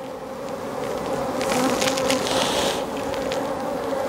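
Honeybees hum steadily and densely at an open hive during a colony split, with brood frames exposed; the buzzing is close and continuous, swelling slightly in the middle, with no talking.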